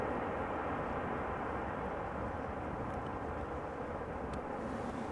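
A Turkish Airlines Boeing 777 on the move on the ground at Amsterdam Schiphol Airport, heard as a steady, broad jet roar at moderate distance with no voices.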